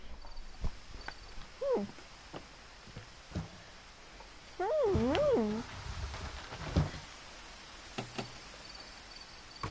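A kitten named Molly meows in What Remains of Edith Finch, two short rising-falling mews followed by a longer wavering cry over a soft ambient game background.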